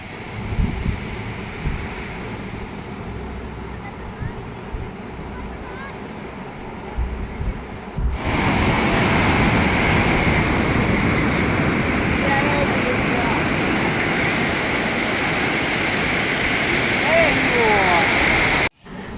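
Quieter ambience gives way to a loud, continuous roar of sea waves washing on Marina Beach in Chennai, steady and close, then cutting off abruptly.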